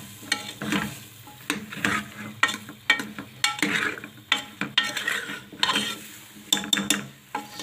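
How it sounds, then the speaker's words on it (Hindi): Aloo gobi, cauliflower and potato sabzi, being stirred in a pan, with repeated scraping and clattering spatula strokes over a low sizzle, close and fairly loud. "इसको करेंगे जी मिक्स"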